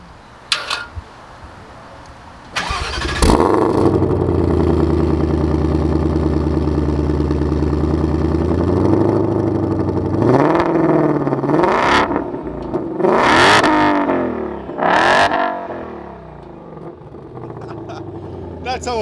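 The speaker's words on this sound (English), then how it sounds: "That's how a car should sound, bro, from factory." A 2020 Shelby GT500 sports car engine starts and idles loudly nearby, then revs sharply several times, rising and falling in quick bursts.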